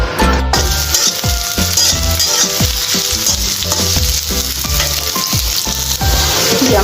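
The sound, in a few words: onions and chillies frying in mustard oil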